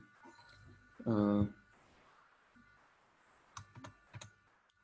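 Typing a MySQL command on a computer keyboard: a short dense flurry of key clicks, then a few scattered taps, close and fairly quiet under a speaking voice.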